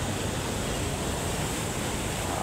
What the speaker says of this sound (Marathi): आज ह्या ब्रिजच्या खालून पाणी जात आहे, वरतून जात नाही आहे।